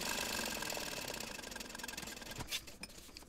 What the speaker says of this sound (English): I want to sew one row using a 1/8 inch seam allowance